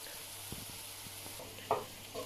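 Paella ingredients browning in a frying pan give a soft, steady sizzle with a few sharper pops and utensil taps, fairly quiet and with no one talking.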